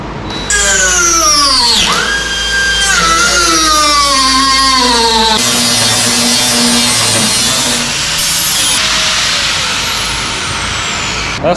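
Power drill cutting out a spot weld on a car door, a loud whining motor that sags and rises in pitch under load, with grinding metal chatter and shifting tones as the bit bites.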